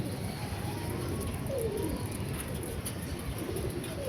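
Pigeons, some of them new birds, coo in a rooftop loft in the evening, soft repeated throaty coos rising over a steady background hum, fairly close and without talk.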